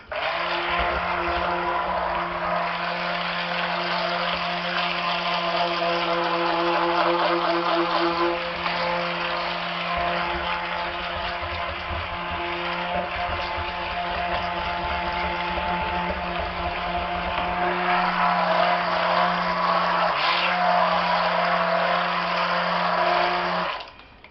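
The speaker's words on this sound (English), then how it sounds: "I just cannot refuse to use a blender." A blender whips pine tar soap with a steady, loud motor whir and droning hum, running continuously close up, with slight shifts in tone before cutting off at the end.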